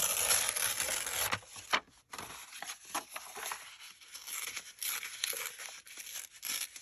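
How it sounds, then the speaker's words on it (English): Stitched paper edges ripped apart by hand, giving loud, close tearing and crinkling bursts that come in short runs with brief pauses between pulls. "I'm going to go ahead and rip them."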